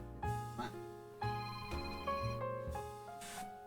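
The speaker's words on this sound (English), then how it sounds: "Phone is going off here." Within a Lovecraftian adventure game, a telephone rings with a melodic, tonal ringtone in repeated bursts, clear and alone.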